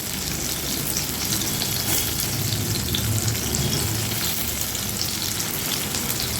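Potatoes and pointed gourd fry in a hot pan with a constant, loud sizzle and faint stirring scrapes, no voices over it.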